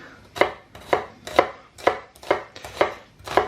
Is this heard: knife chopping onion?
yes